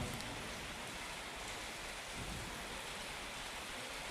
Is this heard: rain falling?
yes